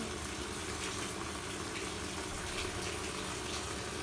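Rainwater falls in a steady, continuous splashing rush, constant and fairly quiet, with no voices.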